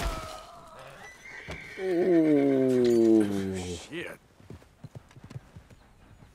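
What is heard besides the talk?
horse neighing and hooves in a video game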